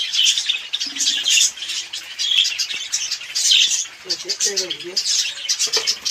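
Pet budgerigars and other caged birds chirp and tweet close by in a busy, overlapping chorus with repeated bursts and occasional squawks throughout.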